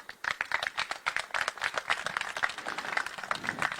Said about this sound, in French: J'aimerais qu'on puisse applaudir également Madame Laure Tarrère